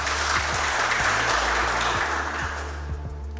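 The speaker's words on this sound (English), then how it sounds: "Will you clap for the quiz master?" Studio audience at a university quiz competition between UNILAG and UI applauds the quiz master, a dense sustained round of clapping that fades slightly toward the end over a low background hum.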